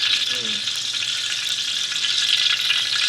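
Fried rice frying in a hot pan, a loud, steady hiss and crackle of sizzling oil that fills the whole moment up close, with a brief faint voice in the background.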